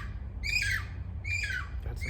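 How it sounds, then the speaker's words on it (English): Parrots give two loud, harsh squawks about a second apart, fairly close, with a third starting at the end over a low background rumble. "got some parrots today."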